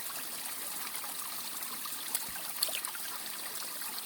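A small waterfall on a steep mountain hiking trail gives a steady, soft trickle and wash of water, a constant even hiss with a couple of brief splashes, heard alone with no talking.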